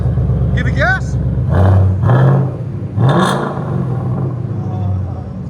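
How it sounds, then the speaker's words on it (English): Ford Mustang GT 5.0L V8 with a custom H-pipe and Flowmaster Outlaw exhaust, idling then revved in a few quick, loud blips close by, with people talking around it. "Ford Mustang GT with H-pipe and Flowmaster Outlaws. Here's idle. Right at 85. Give it gas."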